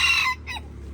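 A young rooster gives a brief, close clipped crow that breaks off into a short cluck, all within a second, with no voices.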